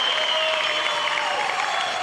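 Crowd at a diving competition applauding and cheering, a dense, sustained wash of clapping with whistles over it, loud and continuous.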